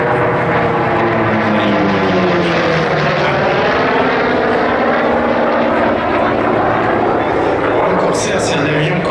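A Corsair F4U-5 propeller fighter's radial engine drones loud and steady throughout at an air show, with a commentator speaking over it.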